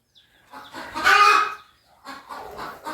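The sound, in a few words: chickens clucking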